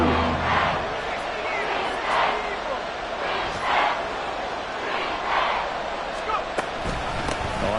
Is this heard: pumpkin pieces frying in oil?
no